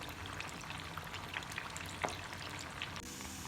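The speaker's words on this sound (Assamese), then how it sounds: "তেলত দিয়া হৈ গৈছে এতিয়া ইয়াক ধুনিয়াকৈ ফ্ৰাই কৰিম" Prawns fry in hot oil in a pan, a quiet continuous sizzle with scattered pops and crackles, a soft clink partway through.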